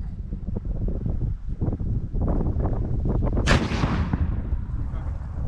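A weapon fires with a heavy back blast on a Marine sniper range during a field exercise: one loud, sharp blast that rolls away into a long hiss, set against steady wind noise and rustling.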